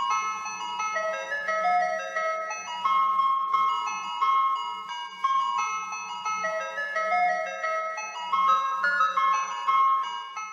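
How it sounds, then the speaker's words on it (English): An ice cream truck jingle plays from crackling loudspeakers, a bright repeating electronic melody that loops continuously and loudly with no talking over it. "many different songs have played through the crackling speakers of ice cream trucks"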